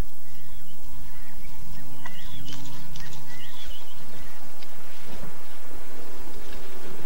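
Wildlife documentary scene with honking waterbirds early on, then rumbling thunder and dense rain hiss taking over as a storm breaks, loud and close.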